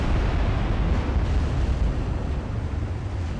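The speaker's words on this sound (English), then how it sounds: "Another 13-inch shot, so they have 13-inch guns" A 13-inch naval gun shell booms in the Ultimate Admiral Dreadnoughts naval battle game, a heavy rumbling blast that stays loud and deep throughout, with no talking.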